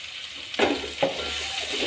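Mixed chilies sizzling in oil in a pan while cooking spicy stir-fried beef skin with green beans, a soft steady fry with two brief bursts of stirring or clattering, close by.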